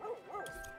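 Dogs in The Red Lantern video game, a sled-dog game, give short whining yips at feeding time, faint over a low hum with soft chewing-like noises afterward.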